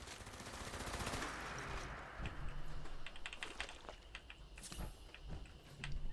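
Gatling laser firing in the Fallout 76 video game: rapid clicking bursts of shots, fairly quiet, coming in short volleys spread across the moment.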